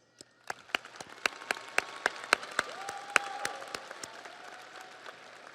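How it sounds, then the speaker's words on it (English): Graduates at a summer commencement ceremony give a round of applause, a crowd's clapping rising to steady sharp claps with a few standout near hands, then thinning out over several seconds. "I would like to start this off with all of us graduates giving those who were there for us a round of applause."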